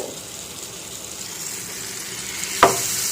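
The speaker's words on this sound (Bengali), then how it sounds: "এবার এগুলোকে আমি ফ্রাই করে নেব" Flour-coated chicken fillets fry in melted butter in a pan, giving a steady soft sizzle with a sudden louder crackle burst near the end and no talking.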